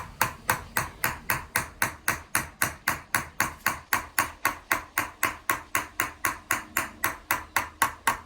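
A chasing hammer with a curved face strikes a metal vessel in a steady, even rhythm of about thirty sharp ringing taps, close and clear, with no voices.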